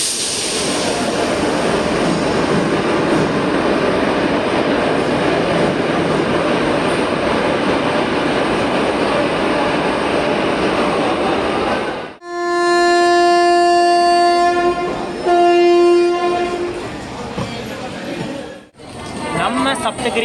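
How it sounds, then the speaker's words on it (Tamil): Steady loud rumble of the Saptagiri Express passenger train leaving Chennai Central for a long stretch, then a multi-tone train horn sounds twice, close and strong. "சப்தகிரி எக்ஸ்பிரஸ் பார்த்தீங்கன்னா சரியாக ஒரு 4 நிமிஷம் டிலேவோட தாங்க கரெக்டாக நம்ம எம்ஜிஆர் சென்னை சென்ட்ரல்லேருந்து வெளியே வந்திருக்கோம்"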